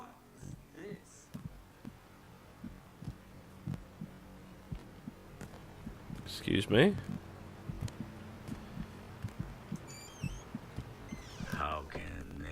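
Heartbeat sound effect from The Tell Tale Heart game thumps in a steady repeated pulse under a low hum, while a voice briefly speaks over it.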